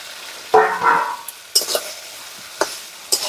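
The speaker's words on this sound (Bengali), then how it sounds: "এবারে আমি ভেজে রাখা আলুগুলো দিয়ে দিচ্ছি।" Fried potatoes tumbling into a pot of simmering home-style chicken curry, with a few separate bursts of sizzling and stirring scrapes spaced across the moment, close and fairly loud.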